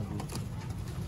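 Sialkoti pigeons coo close by, soft throaty pulses repeating in a short rhythmic run with no talking over them.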